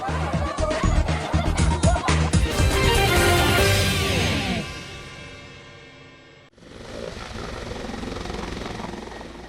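An Indonesian Army (TNI AD) helicopter evacuating teachers and a civilian in Kiwirok, Pegunungan Bintang, Papua: a loud, close rotor and engine roar with rapid chopping pulses, then a cut to a quieter but steady roar.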